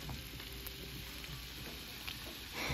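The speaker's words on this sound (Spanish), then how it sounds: "Aquí ya pusimos toda nuestra cecina a cocinar, que se cocine bien, bien." Cecina, a thin salted beef, frying in a pan for tacos, giving a continuous close sizzle with a brief stir near the end and no voices.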